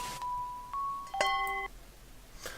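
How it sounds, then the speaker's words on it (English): Electronic phone ringing at a police station in the video game The Mystery of Purplewood Town: a steady synthetic tone shifts pitch, then a brief bright chord of layered beeps sounds clearly, with no talking. "when we returned to the police station, there was a new ringing sound"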